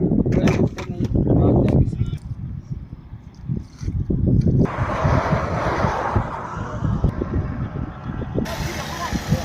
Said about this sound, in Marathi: हवा एवढी आहे आज